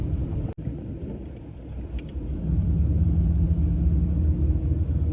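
A 1980s car driving through downtown Haverhill, heard as a steady low engine and road rumble from inside the cabin, growing louder and fuller midway through, with a brief dropout early on.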